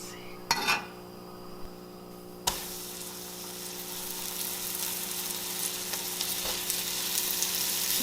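Meat is laid into hot bacon grease in a pan, with a couple of clinks as it goes in, then a sudden burst of sizzling that continues steadily and grows slightly louder.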